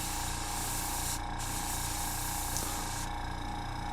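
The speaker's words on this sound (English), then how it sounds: "it's still spraying paint out there when you just use the air" Testors Aztek A470 airbrush blowing plain air with no paint: a steady, loud hiss that runs the whole time, briefly thinning twice as the trigger is worked.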